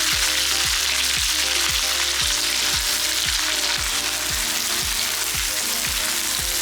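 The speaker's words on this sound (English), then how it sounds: "fry until the onions become translucent" Sliced onion frying in hot oil and ghee, a loud dense sizzle with a regular rhythmic pattern of stirring strokes or bubbling pops repeating across the whole stretch, close up and without speech.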